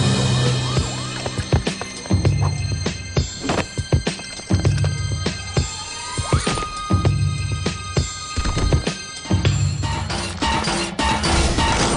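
Sirens in an animated Teenage Mutant Ninja Turtles cartoon, wailing tones mixed with car alarms, crashes and chaotic impacts, loud and busy throughout.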